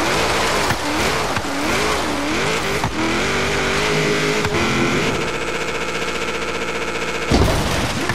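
A car races in the video game Forza Horizon 3, its engine revving loudly with wavering pitch, shifting into a rough, buzzing high-rpm drone before a brief cutoff near the end, with no talking.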